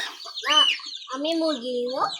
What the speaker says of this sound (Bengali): এই মুরগি তোমাকে কামড় দিবে